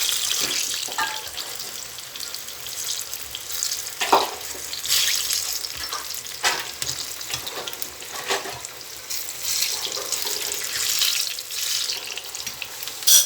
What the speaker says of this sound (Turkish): Birkaç dakika daha kavrulmaya bırakacağım.